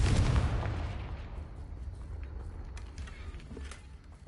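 A Confringo fire spell bursts in a video game with a loud, sharp explosive boom that decays into a rumbling tail, followed by faint small pops.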